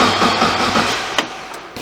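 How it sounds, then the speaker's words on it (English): A Mazda MX5 with a 1.6 engine cranks briefly with the fuel injection fuse pulled, a close, loud starter churn lasting under two seconds without the engine catching. "now I will just crank the engine to relieve the pressure."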